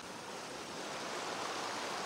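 River water rushes steadily outdoors, a broad even wash of flowing current that stays constant and fairly close throughout, with no voices over it.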